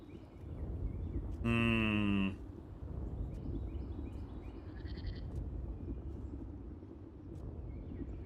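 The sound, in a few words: goats bleating in the video game Old World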